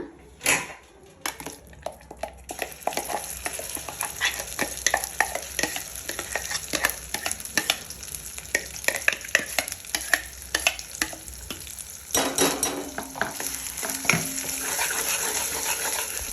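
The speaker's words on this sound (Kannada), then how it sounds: "ಇದಕ್ಕೆ ರುಬ್ಬಿದಂತಹ ಚಟ್ನಿಯನ್ನು ಹಾಕಿ ಕಲಸ್ಕೊಂಬಿಡೋಣ" Ground chutney for an ivy gourd (tondekai) dish being mixed into a cooled tempering in a pan, with repeated close scraping and clicking stir strokes over a faint background hiss, a dog barking briefly at one point.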